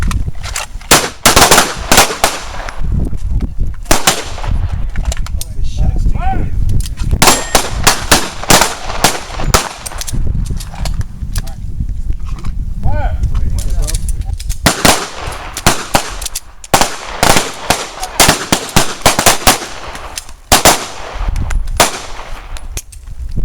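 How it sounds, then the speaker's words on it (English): Live pistol gunfire at a carjacking survival shooting workshop, loud sharp shots cracking in rapid clusters and pairs throughout, with metallic clangs and an instructor talking between volleys. "Two rounds. I just do it once. Ready? Shoot twice. Fire!"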